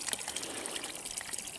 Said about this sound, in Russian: Сейчас мы наберем воды.